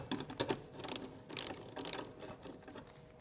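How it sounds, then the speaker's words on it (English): A wrench ratchets on a nut in short quiet bursts of clicking, close by, with a few pauses between the strokes and no talking. "And the nut. So use the wrench."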